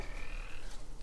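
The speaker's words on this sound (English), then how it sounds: "It's a toad. It's quite quiet," A single short, low croak from a toad, quiet and close, with a faint high tone running underneath.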